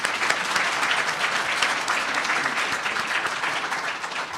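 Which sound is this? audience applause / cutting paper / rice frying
audience applause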